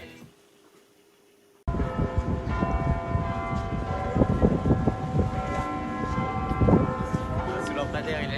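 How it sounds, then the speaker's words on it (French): Big Ben, the 14-tonne bell of the London clock tower, tolls with a deep resonant ring that lingers amid loud outdoor street noise and crowd murmur, following a short quiet moment. "Allez, on écoute Big Ben."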